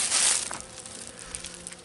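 Honeybees leave the hive at the end of winter, a buzzing insect drone that is loudest in the first half-second and then settles into a steady, softer hum close by.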